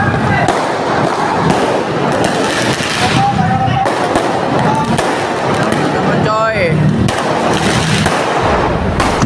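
Firecrackers pop and bang in a chaotic street fight between teenage gangs in East Jakarta, with shouting voices and a whistling rocket amid constant loud crowd noise.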